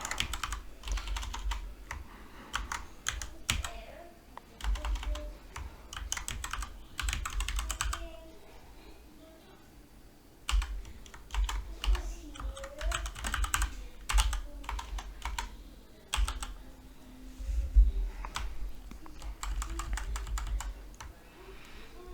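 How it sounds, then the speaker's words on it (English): Steady bursts of typing on a computer keyboard, close and distinct, with rapid clicks arriving in clusters separated by short pauses, including one quieter gap midway. "So I'll just type in this."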